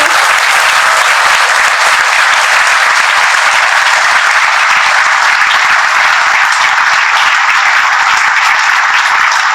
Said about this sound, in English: please join your hands in a thunderous applause